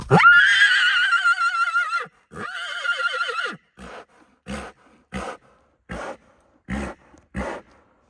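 A stallion for sale lets out a loud, close, drawn-out neigh, then a second shorter whinny, followed by a series of separate snorting grunts at irregular intervals.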